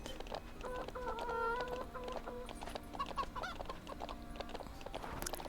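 Chickens clucking on a farm in the Ranch of Rivershine video game, a run of repeated nasal clucks and short calls over a soft steady game background.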